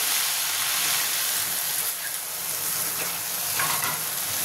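Spice paste frying in a pan as a little water is added, giving a loud, dense, continuous hiss and sizzle up close, with no talking.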